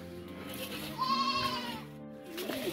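A goat on a small fruit farm gives one clear, wavering bleat, fairly close and alone.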